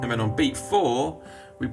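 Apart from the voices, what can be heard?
No distinct noise like a dog, phone or traffic.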